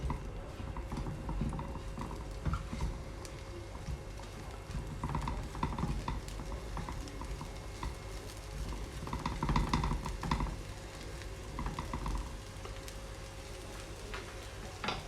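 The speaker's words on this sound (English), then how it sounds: "move the broccoli around the pan" Beef and broccoli being stir-fried in a pan at home: steady sizzling crackle with the scrape and clatter of a utensil pushing food around, moderately close and continuous, with no talk over it.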